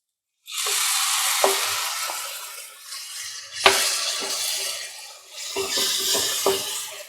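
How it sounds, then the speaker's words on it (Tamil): Ground tomato paste hits a hot pan for a restaurant-style kadai mushroom dish, erupting into loud, hissing sizzle that surges in three waves, with crackling pops and clinks of a utensil stirring. "இப்போ நம்ம அரைச்சி வச்சு இந்த தக்காளி விழுதை சேர்த்துக்கலாம்"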